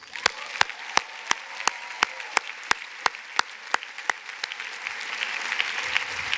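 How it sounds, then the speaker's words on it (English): Graduates at a university commencement ceremony break into a round of applause, with sharp rhythmic claps standing out over a broad wash of crowd clapping that swells toward the end. "give yourselves a loud round of applause"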